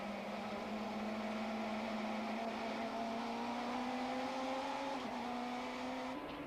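Touring race cars, a Nissan Sentra and a BMW, climb uphill at Zwartkops during the 1994 South African Touring Car Championship, their engines a sustained strained drone rising steadily in pitch under hard acceleration, with no voices.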